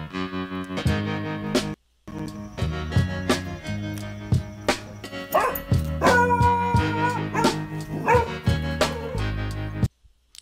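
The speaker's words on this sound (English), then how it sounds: "I still want to hear the dog barking" A dog barks repeatedly in quick bursts, close and loud, mixed with yips and whimpers, with only a short break in the middle.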